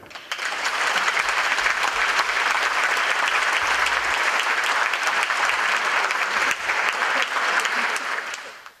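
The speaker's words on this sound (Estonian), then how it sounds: "Teeme aplausi endistele rektoritele ning tegevjuhtidele" A hall audience at a college's 20th anniversary ceremony applauds former rectors and executive directors, loud, dense, steady clapping sustained for several seconds before fading out.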